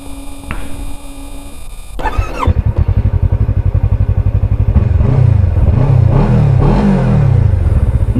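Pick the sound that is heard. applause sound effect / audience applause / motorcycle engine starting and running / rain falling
motorcycle engine starting and running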